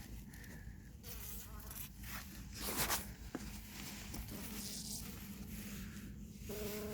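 Bees of a hybrid strain mixed with black bees buzz steadily around an opened hive, a close, continuous insect drone with a brief louder pass near the middle and faint handling noises.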